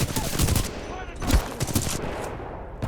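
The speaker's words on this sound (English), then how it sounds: "He has shotgun." Dense, rapid gunfire from an enemy shotgun in the Titanfall 2 video game, with several loud bursts of shots over a busy wash of in-game combat noise.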